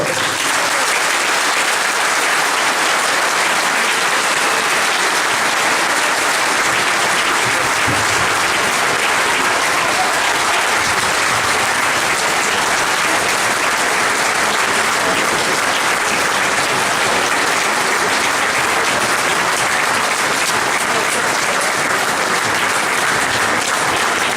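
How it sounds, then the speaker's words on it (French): Sustained applause from a rally audience cheering a municipal campaign team at a political meeting, a dense, steady wash of many hands clapping at close range that holds loud and even throughout, with no speech over it. "Mesdames et messieurs, je vous demande d'applaudir l'équipe de Génération Valence Demain."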